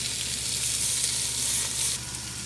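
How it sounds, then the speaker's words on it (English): Pieces of pickled pork sizzle steadily as they brown in a pan, a close, loud, even frying hiss that drops slightly near the end, with no voices. "the tops and bottoms of our pickled pork is browned, so now we're browning the sides"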